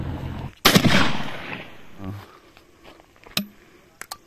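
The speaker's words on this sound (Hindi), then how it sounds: "ये लगभग 25-30 मीटर से फायर किया हमने" A 12 bore single shot ejector shotgun with choke barrel, Indian made, fires once at a target about 25 to 30 metres away outdoors, a sharp loud blast with a rolling tail, followed by fainter clicks and knocks.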